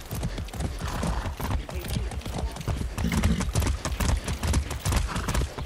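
Horse hooves galloping in Far Cry 6, a fast, loud, close clip-clop rhythm pounding steadily from start to finish, with someone talking excitedly over it at times.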